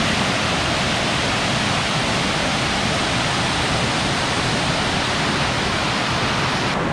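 Steady, loud rushing roar of a waterfall at Old Stone Fort State Park, crystal-clear water pouring without a break for the whole stretch, up close and with no voices.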